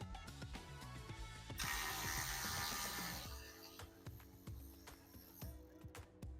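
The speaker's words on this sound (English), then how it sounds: "First step is going to be to remove the factory mounting bracket." Ratchet wrench clicking while removing the factory brake line mounting bracket at the front of a Jeep JK, a burst of rapid pawl clicks followed by scattered metallic tool knocks and handling, close and alone.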